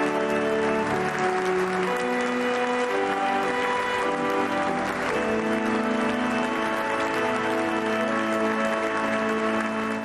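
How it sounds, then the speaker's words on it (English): Enthusiastic applause from the faithful inside a basilica as Pope Leo XIV takes the throne, a continuous wash of clapping blended with sustained tonal music that runs through the whole stretch. "The symbolism of this moment drew enthusiastic applause."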